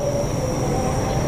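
The Mutiara Selatan passenger train, running from Surabaya Gubeng to Bandung, passes near Gedebage station with a loud, close, steady rumble of rolling wagons and a thin wheel squeal over it.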